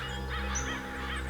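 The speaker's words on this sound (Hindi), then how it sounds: "वहाँ थोड़ा पानी दिख रहा है और बहुत सारे कौवे भी मंडरा रहे हैं।" Crows caw near water in a crime drama scene, one clear, harsh call over a steady low hum.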